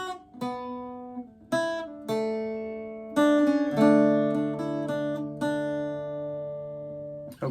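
Irish bouzouki plays the alternate ending of the A-section last line of the Irish tune Sí Bheag, Sí Mhór, a run of plucked, ringing notes in a steady phrase, close and clear, with no voice over it.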